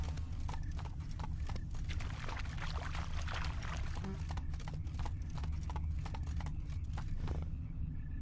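Roach the horse from The Witcher 3: Blood and Wine trotting, a brisk, even run of close hoof clops over a dense low ambient bed, continuing throughout.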